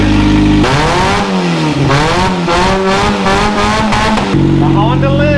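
A Honda engine catches after cranking and climbs into loud, close revving, the pitch rising and falling over several throttle blips before settling back to a steady idle.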